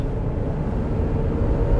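A 1979 Mercedes 450 SEL 6.9 climbs a steep autobahn hill, its engine and road noise a steady, dense rumble with no speech.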